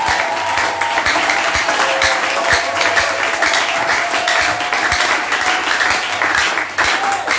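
A church congregation applauds steadily, a dense wash of clapping from many hands that holds through the whole stretch, with faint cheering and a sustained tone underneath.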